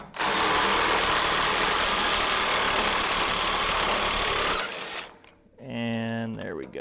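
A Snap-on impact wrench on a dwarf race car fires one long, loud, continuous burst for about four seconds, then cuts off, followed by someone talking briefly.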